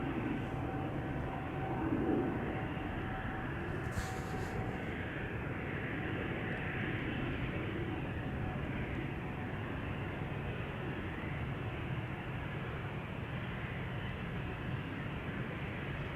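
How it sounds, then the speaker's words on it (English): A Norwegian airliner turns onto the runway at Amsterdam Schiphol Airport, its engines giving a steady, moderately loud roar that holds evenly throughout, with no voices. "Meanwhile, Norwegian is turning onto the runway."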